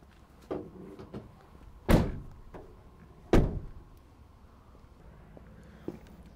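The rear doors of a 2015 Ford Transit Custom van swing shut with two heavy, solid slams a second and a half apart, preceded by lighter clicks and knocks of the latches, close by and with no talk.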